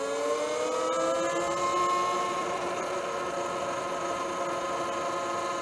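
An Eride Pro SS 2.0 electric dirt bike is ridden flat out in eco mode, its motor giving a steady, fairly loud whine whose pitch climbs slightly and holds, with wind noise underneath and no voices.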